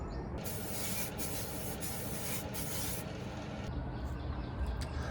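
Aerosol spray paint hisses onto Stormtrooper armour in a confined area, several loud bursts of continuous hissing broken by short pauses, close to the microphone, ending with quieter rubbing sounds.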